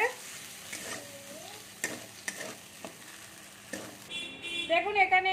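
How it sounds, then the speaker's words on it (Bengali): Chopped tomato being stirred into frying onion and garlic, a soft sizzle broken by spatula scrapes and knocks against the pan, close by, with a brief tonal chime near the end. "টমেটো কুচিটা একটু নেড়ে নেবো এর সাথে ভালো করে।"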